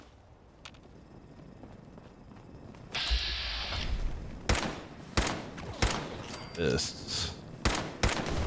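Gunfire in the video game The Good King: a broadband burst from about three seconds, then a string of loud, sharp separate shots, with a voice speaking briefly.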